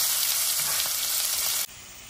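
Mustard seeds, cumin, urad dal, curry leaves and garlic frying in oil while being stirred in a pan, heard as a continuous loud close sizzle that cuts off abruptly near the end.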